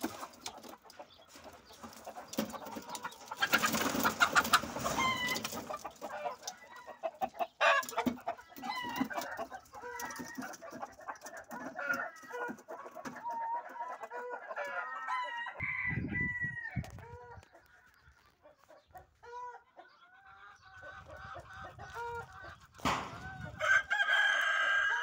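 Roosters crow repeatedly and chickens cluck at a poultry farm, loud and close, with overlapping calls in bursts and a brief quieter lull partway through.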